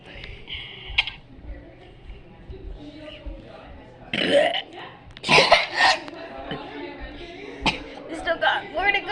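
Loud burps after drinking a whole bottle of Mountain Dew during a burping challenge, several bursts of varying length close to the mic, with people talking and laughing in between.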